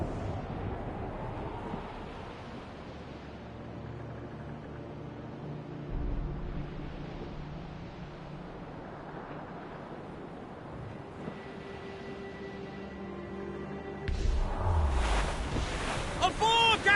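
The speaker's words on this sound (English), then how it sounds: "It's quite a rough squall, Captain." At sea in Assassin's Creed Rogue, a rough squall roars with gusting wind and surging waves around a sailing ship. The steady rumble and hiss continue throughout, then swell louder and harsher near the end.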